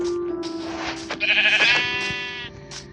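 A Minecraft sheep gives a loud, close, wavering bleat, a single drawn-out call over a steady background tone in the video game.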